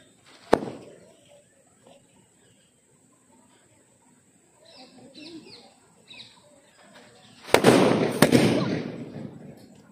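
Diwali firecrackers bursting outdoors: one sharp bang early, then quiet with faint bird chirps and voices, followed by two loud close explosions with crackling that trails off.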